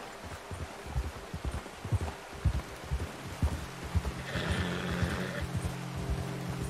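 A horse in Red Dead Redemption 2 clops and shuffles nearby in a soft, irregular rhythm, followed by a brief snort or blow, faint against a quiet outdoor backdrop.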